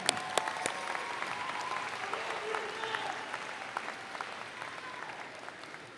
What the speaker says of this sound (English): let's give a big round of applause again for your parents